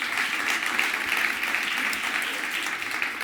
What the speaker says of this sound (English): Big applause for Kike